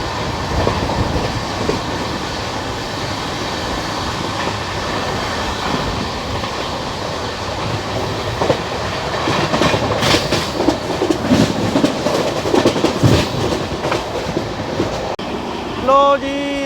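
The 14624 Seer Govardhanpur–Varanasi Express passenger train runs on rails in Punjab, a loud continuous rumble with rhythmic clickety-clack from the wheels, rising in clatter toward the end, heard from on board.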